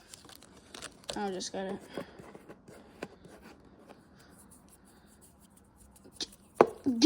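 Dirt bike plastic graphics kit being ripped and peeled off the bike, with crinkly tearing bursts near the start and again at the end, and someone speaking briefly.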